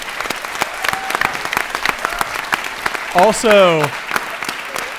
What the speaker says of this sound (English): if you could help me give the students a round of applause